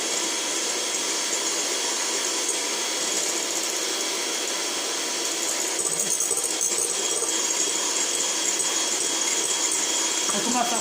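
A stand mixer whips a small batch of well-chilled cream for a tropézienne. Its motor gives a steady, loud, whirring drone throughout, turning slightly rougher and busier partway through.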